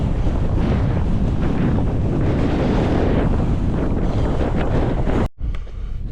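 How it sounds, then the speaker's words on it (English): Loud, constant wind buffeting the microphone on an open walking footpath, with gusty roaring swells, briefly cutting out near the end before resuming. "It's so blustery and windy"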